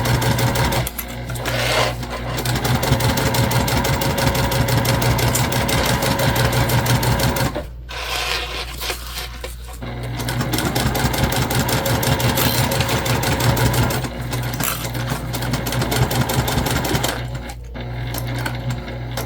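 A sewing machine runs long, steady basting stitches through fabric for a travel sling bag, whirring loud and close in sustained bursts with a couple of brief pauses.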